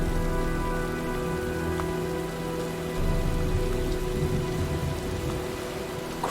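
Steady rainfall of an approaching storm in the video game Heavy Rain, a constant hiss on surfaces at moderate level with a low rumbling bed beneath and no voices.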